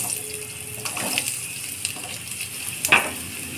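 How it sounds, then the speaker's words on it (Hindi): Oil sizzles and spatters steadily as potatoes fry in a pan with fenugreek seeds, with occasional stirring scrapes close by. "आलू को हम अच्छे से फ्राई कर लेंगे"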